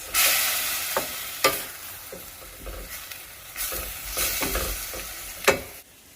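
Chopped tomato frying in a pan for fajitas, a soft steady sizzle broken by a spoon scraping and knocking the pan at irregular moments, close up with no talking.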